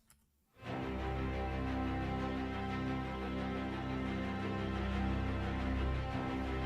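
Orchestral strings from an epic arrangement of Mario Kart music, with sustained chords and lower stabs, entering after a brief quiet moment and playing on continuously with no voices.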